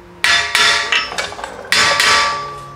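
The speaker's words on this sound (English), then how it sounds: "So it's okay to take a hammer to it, being that you're going to be replacing the rotor anyway." Sharp metallic hammer blows strike a Maserati brake rotor on the wheel hub, five or six ringing taps in an uneven rhythm, close and loud, with no talking.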